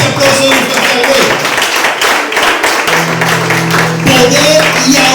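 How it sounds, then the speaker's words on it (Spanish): Church congregation clapping loudly and rhythmically, a steady pattern of sharp hand claps mixed with voices and music tones throughout. "quiere ese aplauso de un fuerte al Rey?"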